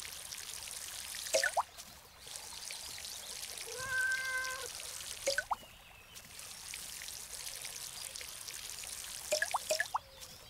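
Water poured onto plants in the video game Garden Simulator, a faint steady trickling stream running through most of the stretch, broken by short chirpy game sounds and a soft tonal chime in the middle.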